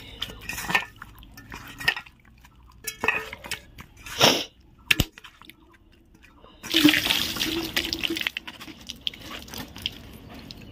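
Water splashes and runs in bursts while meat is washed in a kitchen, with intermittent clatters and a louder stretch of flowing water near the end.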